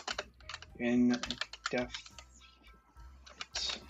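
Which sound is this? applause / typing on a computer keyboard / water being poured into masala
typing on a computer keyboard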